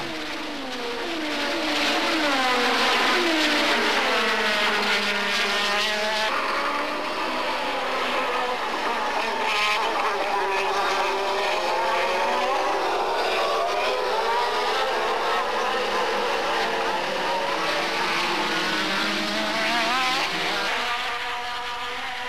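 Formula 1 race cars from the 1987 season, Berger slipstreaming past Mansell in front of the pits, roar past loud and continuous, their high engine whine sweeping up and down in pitch with no talk over it.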